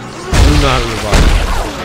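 Gunfire in the sci-fi horror game Dead Space 3: two heavy, booming blasts roughly a second apart, loud and close, with a rumbling tail between them.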